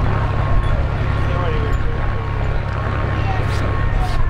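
Four turboprop engines of an RNZAF C-130H Hercules at an airshow display throttle up toward full power, a steady loud broadband roar with low droning tones, continuous and close, with no talk over it.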